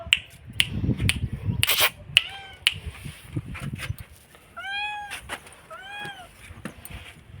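A mother cat meows repeatedly, several rising-falling calls in a row, mid-distance, calling for her kitten amid faint rustling and clicks.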